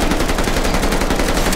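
Rapid automatic gunfire bursts in the Vanguard shooter game, dense and loud, ripping continuously at close range with no talking over it.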